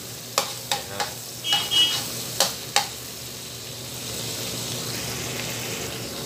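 Garlic fries in a hot pan until brown, with a steady low sizzle and a few sharp metallic scrapes and taps from stirring near the start, with no talk.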